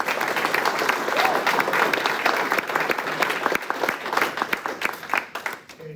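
Room of people applauding an honoree at a school board meeting, dense steady clapping that thins out toward the end, fairly close with a voice faintly underneath.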